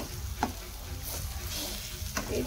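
Dry fish frying in a pan for a dry fish masala, giving a continuous low sizzle with a few scattered stirring scrapes and clinks, fairly quiet and close.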